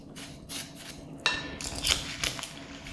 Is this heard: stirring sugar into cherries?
yes